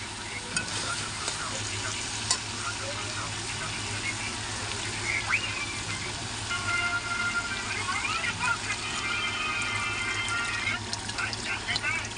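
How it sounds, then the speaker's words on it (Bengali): Water is poured into a pot of braised chicken curry with potatoes that is frying in released oil, giving a steady, close sizzle and bubbling hiss with soft stirring clinks. "এবার আমি জলটা দিয়ে দেবো।"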